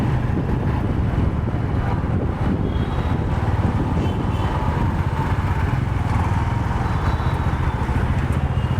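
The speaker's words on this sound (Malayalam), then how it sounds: "ഇപ്പോൾ എൻജിൻ്റെ നല്ലൊരു സ്മൂത്ത് ഒച്ചപ്പോൾ വരുന്നത്." A vehicle engine runs steadily after a fresh motor oil change, a continuous loud hum and rumble with wind noise, even in level throughout with no talking.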